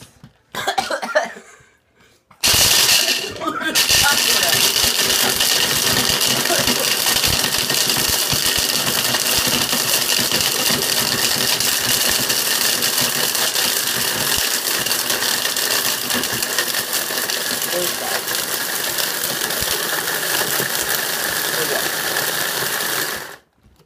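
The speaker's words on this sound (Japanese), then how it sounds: "ではミキサーにかけたいと思います。" After a brief pause, a loud blender grinding Mentos mints roars into a steady high-speed grinding whir that continues for about twenty seconds before cutting off.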